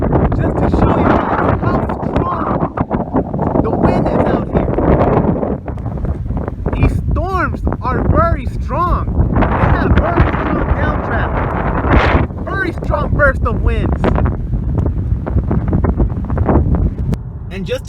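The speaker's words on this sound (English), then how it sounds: "And just to show you guys how strong these winds are as well" Strong monsoon thunderstorm winds roar and buffet a microphone in Lucerne Valley, California, a continuous heavy rush of gusts lasting throughout.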